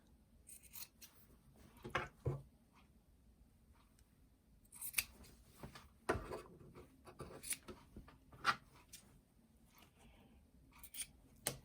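Scissors trim the corners of a quilted fabric placemat, with a series of quiet, crisp snips and rustles spaced irregularly over a hushed room, and no talking.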